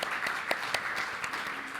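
Conference attendees at an air law event applaud the departing panelists, a dense, steady patter of many hands with a few sharper claps standing out, moderately loud throughout.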